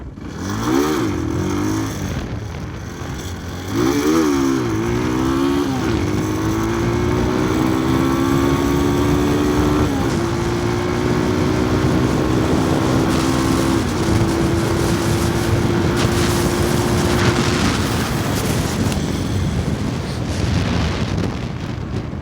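A Falcon Freedom 250 cruiser motorcycle rides steadily during a test, its engine droning loud and close with rising and falling revs as it shifts and accelerates, wind noise constant throughout and no talk.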